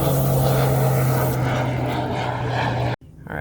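A strong jet of water sprays steadily and loudly onto the roots of a store-bought tomato seedling, a continuous hiss with a low hum underneath, then cuts out abruptly near the end and resumes briefly.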